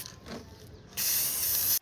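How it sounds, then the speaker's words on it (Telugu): A can of black spray paint, the kind used for bike paint, releases a steady bright hiss of spray that starts abruptly after a quiet moment and cuts off sharply near the end. "Spray type painting."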